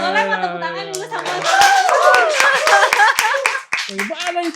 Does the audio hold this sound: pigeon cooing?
no